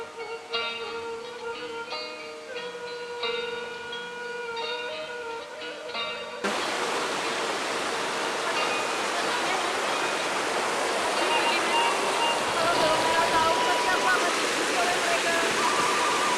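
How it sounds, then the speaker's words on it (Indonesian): River water flows in a steady, loud rushing wash that begins abruptly after a stretch of music, constant and close with no speech over it. "Bawang Putih sedang mencuci baju dan selendang di sungai"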